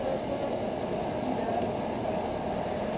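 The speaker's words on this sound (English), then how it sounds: "the engine's purring like a kitten" Idling swapped engine in a 2002 Kia Spectra, a steady low rumbling hum with even texture, close and constant with no talk over it.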